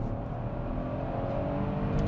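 A Porsche Cayenne accelerating hard in second gear, its engine a close, steady, rising drone under full throttle, with no talking over it.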